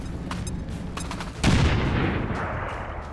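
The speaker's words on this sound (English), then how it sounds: "Throwing grenade." A grenade thrown in the video game XCOM 2 goes off in a single loud, deep blast midway through, preceded by faint game clicks and followed by a rumbling tail that fades over a couple of seconds.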